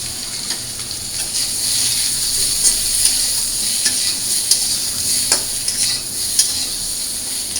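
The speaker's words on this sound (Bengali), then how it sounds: "তো আমি আলুগুলো হালকা ভেজে নিই" Potatoes and green chillies fry lightly in a pan with a continuous sizzle. Repeated scraping and stirring clicks from a spatula come through up close.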